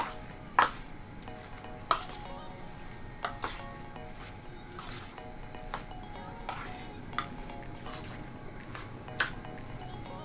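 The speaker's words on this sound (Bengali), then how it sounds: "এই যে আমি সবজির মিশ্রণটা করে রেখেছি তার সাথে মিশিয়ে দেব খুব ভালো করে" Egg being stirred into a vegetable mixture for egg momo, with a spoon clinking against the bowl at irregular intervals over soft wet mixing sounds, close and fairly quiet.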